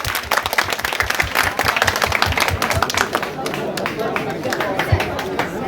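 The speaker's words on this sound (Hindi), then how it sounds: "टेबल नंबर 9 अगर जोरदार ताली हो जाए।" An audience at a quiz competition claps loudly for table number 9, with rapid, close, irregular handclaps and background chatter throughout.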